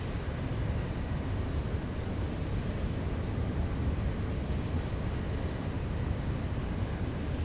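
Southwest airliner engines in the flight simulator X-Plane 11, a steady broadband roar with a faint high whine, constant and moderately loud with no speech.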